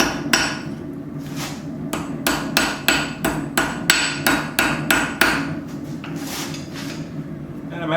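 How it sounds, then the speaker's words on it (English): A small hammer strikes hot metal again and again, forging and tapering the edges of a necklace hanger, the sharp ringing blows coming in quick regular bursts with short pauses, close and loud. "And I'm actually using a pretty small hammer."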